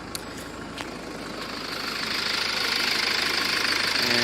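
The engine of a 2013 Jaguar XF with about 160,000 km runs at idle under the open bonnet, a steady mid-level hum with faint ticking that swells slightly louder toward the end, heard alone without talk.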